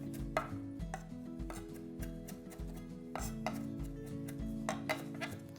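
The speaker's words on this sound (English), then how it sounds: "we're just gonna give this a rough chop, just small enough so it'll turn into a nice paste with the garlic and the olive oil" A knife rough-chops pea shoots on a cutting board, a brisk series of close thuds and knocks repeating irregularly over a faint hum, with no talking.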